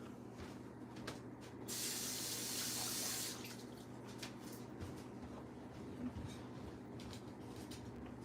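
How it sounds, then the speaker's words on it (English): Kitchen tap water runs steadily as a hand is rinsed beneath it, a close, soft hiss that swells into a brighter splashing spray for about a second before settling back, with no talk. "I'm gonna rinse my hand off real quick"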